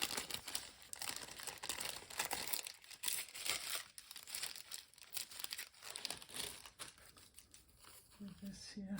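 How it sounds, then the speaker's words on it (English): Paper being torn and crinkled by hand for a mixed media collage, repeated quiet ripping and rustling bursts up close, with a voice talking throughout. "It is really easy to tear this paper."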